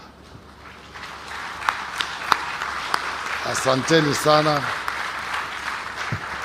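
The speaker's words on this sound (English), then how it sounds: "to stand and we give them an applause." A conference audience at an investment event in Vipingo, Kilifi gives a soft, distant round of applause beneath someone speaking into a microphone.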